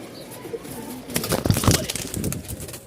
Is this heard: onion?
no